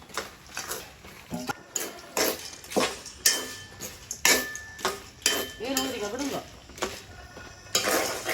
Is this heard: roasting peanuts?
yes